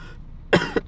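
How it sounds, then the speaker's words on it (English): After a brief quiet moment, a person gives two quick, close coughs in succession. "You know when you cough too many times and you're like, let me stop coughing"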